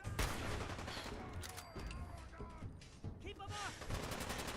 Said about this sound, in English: I love how these guys are just shooting and it feels like nobody's doing damage to anybody.